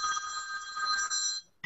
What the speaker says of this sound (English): My wife changed my ringtone. It sounds like an old school phone